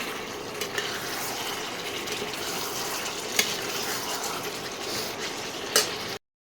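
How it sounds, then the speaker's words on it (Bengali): Mutton kosha being stir-fried with salt in a pan gives a steady, dense hiss, with a few soft scrapes of the stirring spoon rising above it. No voices. "এবারে একবারে নুনটা দিয়ে দিলাম, এবারে আবার কষাতে হবে।"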